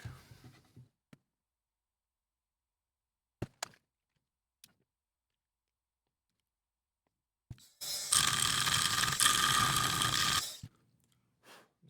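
Dremel rotary tool widening a slot in a 3D printed guitar hanger part. Scattered small clicks and handling taps come first, then a loud, close, steady grinding whine runs for about three seconds and stops, with no talk.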